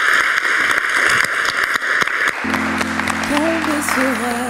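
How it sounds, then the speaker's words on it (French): Live audience applause at a public talk on decolonisation, feminism and racism: a dense wash of clapping for just over two seconds, then cutting abruptly to steady tones with a wavering, whistle-like melody. "C'est des vrais applaudissements que vous entendez."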